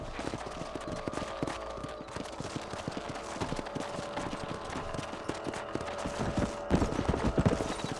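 Several horses trot steadily in the Red Dead Redemption video game, their rhythmic hoofbeats clip-clopping continuously and fairly close, with faint ambient game sound behind them and no talk.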